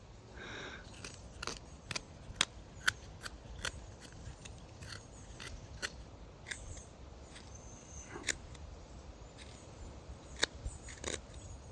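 A carving knife slices through wood in a series of sharp, crisp cuts and scrapes, scattered clicks and snaps spread irregularly over steady low background noise, close and fairly quiet with no talking.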